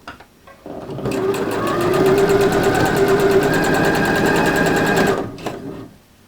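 A sewing machine hems a dress, running steadily for about four seconds with a fast, even needle rhythm and motor whir, close and loud, starting and stopping cleanly.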